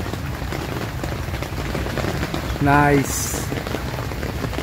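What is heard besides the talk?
rain falling on tent during beach camping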